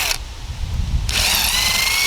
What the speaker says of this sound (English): Found a drill bit the same size as my dowel rod.